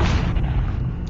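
A shotgun blast in a video game: one heavy, booming low-end shot that fills the short moment and rolls off, loud and close, with no talking.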